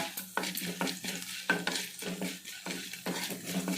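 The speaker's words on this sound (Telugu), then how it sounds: "మినపగుళ్ళు జీలకర్ర ఆవాలు ఎండుమిర్చి కరివేపాకు ఓకేనా ఇంతే పోపు పోపట్టి" Urad dal, cumin, mustard seeds, dried red chillies and curry leaves tempering in hot oil for a peanut-coconut chutney, with a soft sizzle under rhythmic scraping strokes of a spoon stirring the pan.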